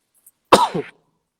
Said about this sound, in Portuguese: Perdão, tô com um pouco de tosse hoje.